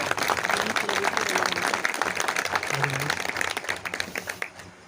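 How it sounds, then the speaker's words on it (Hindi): Applause from an audience at a civil defence Holi celebration in Dehradun, a dense burst of clapping that holds for several seconds and then tapers off near the end. "सभी के लिए एक जरा जोर से ताली बजाएंगे।"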